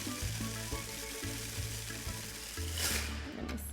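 Granola-crusted tuna balls fry in a pot of oil, giving a steady close sizzle and crackle throughout with a brief louder hiss near the end.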